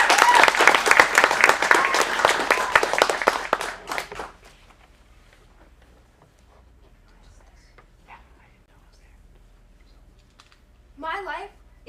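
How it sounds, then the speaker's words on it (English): A small audience at a teen acting showcase in a Phoenix studio claps for about four seconds, with a cheer mixed in, then the room goes nearly silent before a voice begins speaking. "So let's give a round of applause for our first performer."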